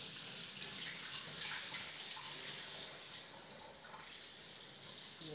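Potatoes for french fries are washed under running water in a vessel, a steady close splashing and trickling with slight swells, and no voices.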